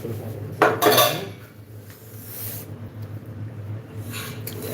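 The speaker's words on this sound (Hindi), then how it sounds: "दिखाऊं बर्तन कितना हो गया बेसिन में।" Dishes and cutlery clatter in a sink basin piled with used utensils, a loud burst of clinks and knocks near the start, then quieter handling and a few faint clinks later, close by.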